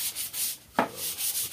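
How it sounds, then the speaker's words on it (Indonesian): Wood is rubbed with fine sandpaper while a bird cage is built, giving steady rasping strokes with one brief, sharper scrape in the middle, close and fairly quiet, with no talking. "kalau misalkan lebih halus lagi menggunakan amplas 1000 ya, amplas 1000 juga boleh"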